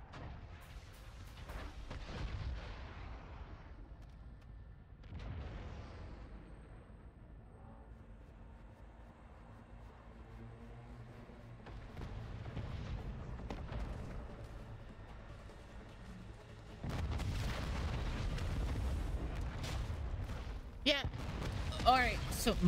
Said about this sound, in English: We're just gonna watch the missiles.